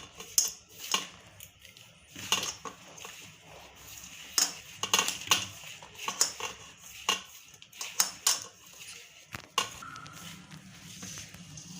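Chakli dough is mixed with oil in a bowl. A spoon scrapes and knocks against the bowl in irregular bursts, close and fairly clear, with short quiet gaps between strokes.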